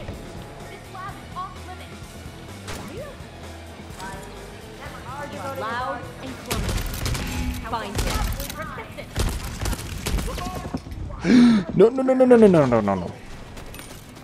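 Turret gunfire in the Deathloop video game, bursts of shots mixed with game sounds and a talking voice, growing louder and busier in the later seconds.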